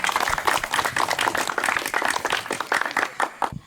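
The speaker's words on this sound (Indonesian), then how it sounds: "Tepuk tangan untuk pemuda Desa Kebaman." Dense, lively clapping from an audience at a youth open-mic forum in an Indonesian village hall, a continuous round of many hands that tapers off near the end, heard alone without speech.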